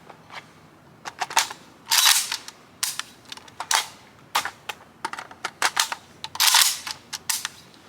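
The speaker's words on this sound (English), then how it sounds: "let's try the exact same thing, but what we're gonna do this time, overhand charging" AK rifle with no magazine, its charging handle racked overhand from the low ready, giving a series of sharp metallic clacks and clicks in irregular bursts, close and loud with no talking.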